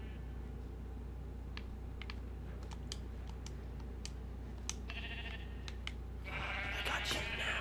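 Sheep bleating in Minecraft with a cute-looking texture pack, a few soft synthetic bleats over a steady low hum and rapid computer keyboard typing clicks, growing louder near the end.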